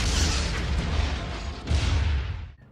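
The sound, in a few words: car explosion in film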